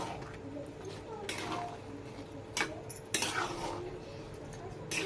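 Goat fat being stirred in a metal cooking pot for Muharram khichuri, soft intermittent scraping and clinks of a spoon against the pot over a low background hum, fairly quiet.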